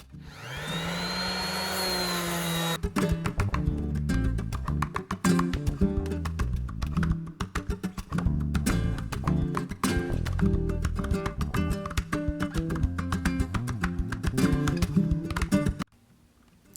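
Zebrawood guitar body being sanded with 60 grit sandpaper on a loud power sander after grinder work. After a brief rising whine, it gives a dense, continuous close-up roar with a rapid rough rasping texture, then cuts off near the end.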